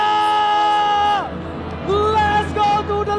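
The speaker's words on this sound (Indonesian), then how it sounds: "Mana tepuk tangannya?" At the MPL final game 7 of RRQ versus ONIC in an esports arena, a large crowd roars, cheers and whoops loudly, with sustained shouting voices rising and falling and no distinct clapping standing out.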